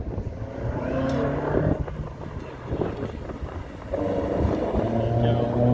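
A 1970s Jensen Healy sports car accelerates toward the finish line at the Sandown sprint, its steady engine drone holding beneath an announcer's commentary, with wind buffeting the microphone.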